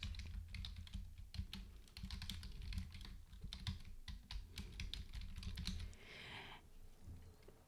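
Rapid, uneven clatter of keys being typed on a computer keyboard, close and quiet, continuing steadily with brief pauses and no talk.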